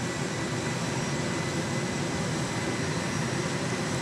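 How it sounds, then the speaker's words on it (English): A Southwest Airlines Boeing 737-700 departs Dallas Love Field bound for Austin, a loud, continuous engine roar with a constant level throughout. "Southwest Airlines Flight 376 is now getting ready to launch to Austin"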